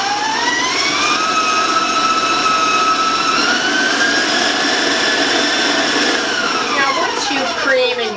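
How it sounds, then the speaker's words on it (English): A stand mixer runs steadily while creaming butter, a loud even motor whine with a rising pitch that holds and shifts near the end, with no speech over it. "I'm just going to cream it in my stand mixer"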